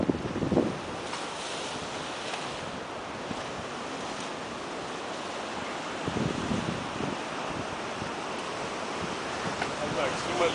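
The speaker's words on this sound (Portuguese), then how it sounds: "Olha essa onda aqui atrás. Olha, essa tá grande" Ocean waves break on the shore in a continuous wash of surf, with wind buffeting the microphone and a few louder surges standing out. A voice speaks briefly over it.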